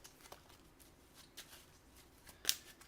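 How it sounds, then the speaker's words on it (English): Playing cards are shuffled during a Marvel Champions card game, with faint, soft riffling rustles across the clip and one sharper snap near the end, all quiet and close. "Shuffle that up."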